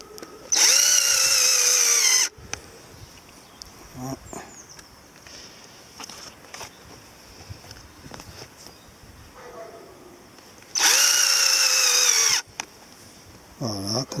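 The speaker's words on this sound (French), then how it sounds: "Ça a l'air de bien vraiment se visser dans le feutre là, très très bien." A power screwdriver drives a screw into felt in two loud, steady high whirring bursts of about two seconds each, separated by quiet handling noises and scattered clicks.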